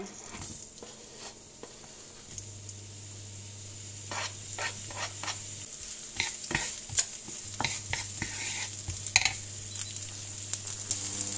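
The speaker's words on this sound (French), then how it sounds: "Dans ma poêle, je vais mettre un petit peu d'huile d'olive. Je vais y faire revenir mes échalotes." Shallots sautéing in a little olive oil in a frying pan, with a soft steady sizzle and repeated scraping stirs of a utensil against the pan, close by with no talk.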